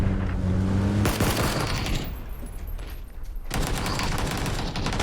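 Gunfire in a PUBG squad match, with dense bursts of automatic rifle fire and rapid shots, loud and close, pausing briefly before another heavy volley.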